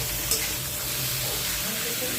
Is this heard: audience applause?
no